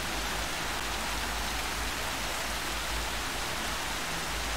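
Steady, dense rain in the video game Horizon Zero Dawn, a continuous broadband hiss of falling drops that fills the whole stretch evenly with no voices over it.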